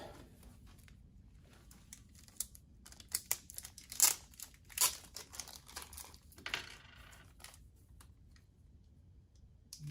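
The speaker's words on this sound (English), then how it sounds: "They come in little bags like this, so we just have to open them one by one." Small plastic bags of replacement washers for a 110Xi4 printer roller are torn open one by one, giving faint, close crinkling and rustling with a few sharper tearing bursts and small clicks.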